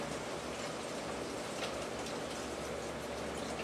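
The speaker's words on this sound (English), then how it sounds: "Then I'm going to pour in beef broth." Beef broth poured into a hot pan of beef and bacon with mushrooms, onions and garlic, giving a steady, dense sizzle and splatter that holds at an even level throughout, with no talk.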